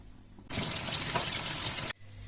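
Tap water gushes steadily into a sink for about a second and a half as boiled honey mushrooms are rinsed, starting and stopping abruptly, close and fairly loud with no talking.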